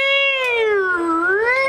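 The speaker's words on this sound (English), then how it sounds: "Wow, that is a chill cat." A cat gives a single clear, close meow that dips in pitch in the middle and rises again at the end, about two seconds long, with no other sound around it.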